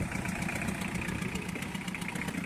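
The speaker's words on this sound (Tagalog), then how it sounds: "Pa-start ko itong makina." A Toyota Revo engine idles steadily up close, a rough, even diesel-like chug with a slight knocking rhythm and no talk.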